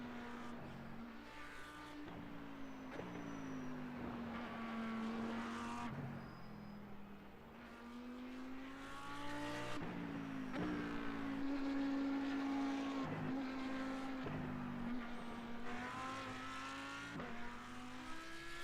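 An Audi R8 GT3 race car in iRacing revs hard and steadily, its engine note climbing through the gears with brief dips at each shift, loud and continuous with no talk.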